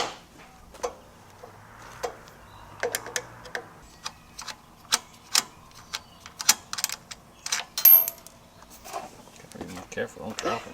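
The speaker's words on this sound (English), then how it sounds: "let's grab some Phillips head screwdrivers and take those screws out" Phillips head screwdrivers back screws out of a go-kart engine, giving irregular small metallic ticks and clicks, close and fairly crisp, with people talking at moments.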